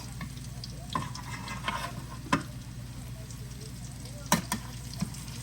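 Salmon croquettes fry in a pan with a steady, close sizzle throughout, marked by a few sharp clicks and scrapes as the patties are turned.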